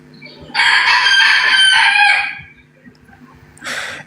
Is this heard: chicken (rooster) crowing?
yes